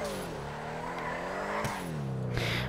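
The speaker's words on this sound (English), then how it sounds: "I started drifting there a little too soon." A car drifts in a GTA video game, its engine humming steadily with shifting pitch, and a faint tire squeal comes through near the end.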